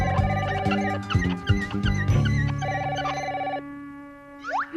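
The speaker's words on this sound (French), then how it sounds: "Mince, le téléphone." Cartoon telephone bell ringing in repeated bursts, loud and close, in an animated school bus scene, with a brief sliding tone at the end.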